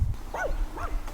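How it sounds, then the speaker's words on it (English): A small dog barks outside, two quick yappy barks heard at a moderate distance over a steady outdoor rumble. "their little dog is outside, and I don't trust him."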